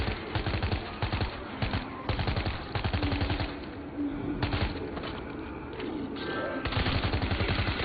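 Rapid bursts of gunfire in the World War Z zombie shooter game, repeated clattering volleys in rhythmic clusters over steady background game noise.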